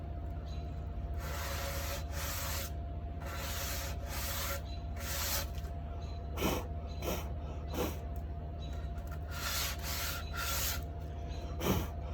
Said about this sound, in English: So these edges should clean up pretty nicely with a couple swipes of the sandpaper.